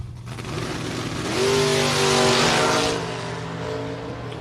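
Drag racing cars, one a white Colorado, launch down the strip in a loud, close engine roar that swells and rises in pitch over a couple of seconds before easing off.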